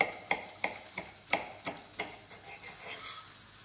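A cooked cordon bleu stuffed with Cantal cheese is cut in half with a knife, giving a series of about eight sharp, crisp crunches that come quickly, then fade into softer scraping toward the end.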